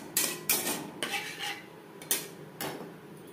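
Fish in mustard masala gets stirred in a pan over a low flame, with a series of sharp metal spoon scrapes and clanks against the pan, about six strokes separated by short pauses, close and clear.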